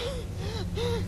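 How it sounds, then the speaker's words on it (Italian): A character in the horror video game Neverending Nightmares pants in quick, strained, breathy gasps with a whimpering edge, close and fairly quiet, over a low droning background. "Sentite l'ansimare, quanto è inquietante."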